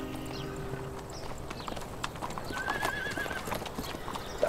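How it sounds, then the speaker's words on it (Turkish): Horse hooves clip-clop steadily at a moderate distance while a horse neighs and whinnies partway through, with a quiet outdoor background and no speech. "Evet, Tılsım çok özlemiş at binmeyi."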